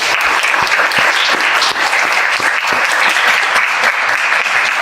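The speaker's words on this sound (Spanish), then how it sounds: "Vamos a despedir a Jesús con un aplauso, por favor." Audience at a book presentation clapping steadily, a dense, loud burst of applause from a crowded room lasting several seconds.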